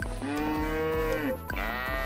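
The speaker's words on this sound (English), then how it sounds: "All my cows still like to just crowd around the left side" Cows mooing inside a barn in the Story of Seasons: Friends of Mineral Town farming game, two drawn-out, loud, tonal calls back to back, the first longer and the second starting just after it ends.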